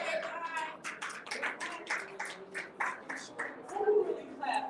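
People clap at a Flint City Council meeting, a run of sharp, evenly spaced claps under continuous talk in the chamber.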